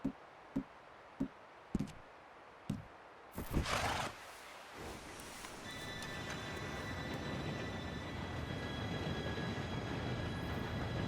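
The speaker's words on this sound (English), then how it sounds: "Train should be here any minute now." A train arrives in Red Dead Redemption 2. A few sharp ticks come first, then a loud hiss, and the rolling rumble of rail cars builds and holds steady with faint squealing tones.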